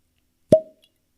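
A single close, sharp cork pop, imitated by a voice as a whiskey bottle is opened, standing alone with a brief tail and silence around it.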